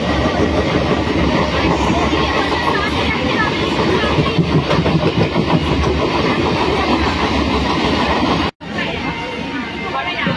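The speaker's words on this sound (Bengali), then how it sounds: "এখন আমাদের ট্রেন লোকো কারশেডের সামনে দিয়ে যাচ্ছে।" A suburban train rolls from Howrah toward Liluah past a locomotive car shed, a loud continuous rumble with rhythmic wheel clatter heard from on board, briefly cut near the end.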